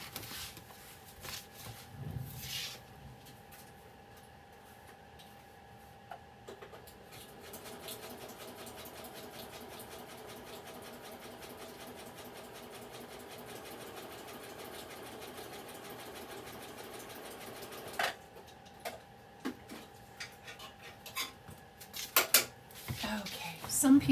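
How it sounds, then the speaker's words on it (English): Sewing machine running a zigzag stitch along a line on a scrap cluster, a steady mechanical whir held for about ten seconds in the middle, with brief speech and handling sounds before and after. "I'm going to go sew down this line because I like the look of sewn embellishments"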